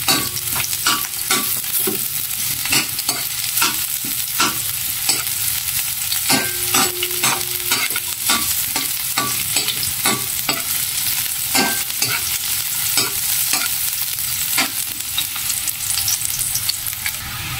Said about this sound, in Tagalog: nilagay na natin yung bawang, sibuyas at saka luya